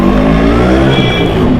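A two-stroke motorcycle engine runs steadily close by, a loud, continuous buzzing drone with a rapid rattling rhythm and no pauses.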